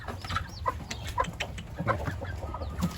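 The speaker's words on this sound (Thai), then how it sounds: "โอ้ไก่ตีกัน" Fighting cocks scuffle at a home in Udon Thani province, Thailand, giving short, close clucks and sharp squawks in an irregular burst over a low background rumble.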